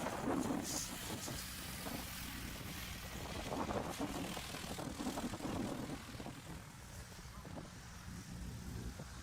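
Steady broadband wind rumble buffets the microphone at an airfield during a mass-arrivals fly-in, a continuous roar across the whole stretch with faint aircraft engine drone mixed underneath.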